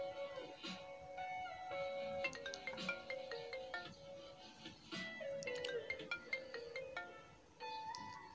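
An Apple iPhone 4S in new condition plays its ringtone through the loudspeaker, a bright melodic run of chiming tones that repeats with short pauses, loud and close with no talking.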